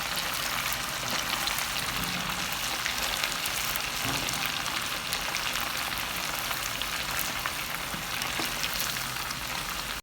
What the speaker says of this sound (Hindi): चिकन हमारा अच्छे से फ्राई हो गया है